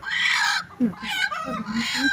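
Chickens cluck and squawk loudly at close range in a short, busy burst, with a voice talking over part of it.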